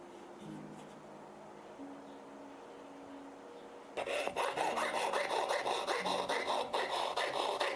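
A hand file rasps across a brass plate, starting faint and sparse, then turning loud and continuous after a few seconds with steady back-and-forth strokes close by.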